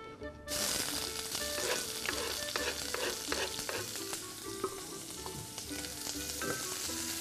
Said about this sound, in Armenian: սոխը լցվելուց անմիջապես հետո պիտի սկսի տապակվել